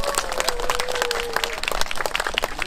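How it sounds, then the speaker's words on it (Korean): A crowd gives welcoming applause at the opening ceremony of a garden festival held in a peace park, many hands clapping in a dense, bright, continuous patter at close range, with a thin whistle-like tone running briefly through the start. "잠깐 일어나서 좀 환영의 박수!"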